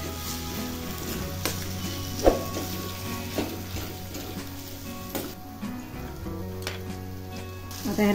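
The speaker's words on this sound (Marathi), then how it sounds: "त्याला परतून घ्यायचं चांगलं." Mashed eggplant for bharit sizzles steadily in a hot pan as it is sautéed, with a constant close frying hiss and occasional scrapes and taps of stirring, and no talking.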